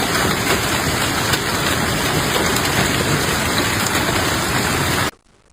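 A torrential rain and hail storm sweeping through Beijing, heard as a dense, loud, unbroken roar of downpour that holds steady throughout and cuts off abruptly just before the end.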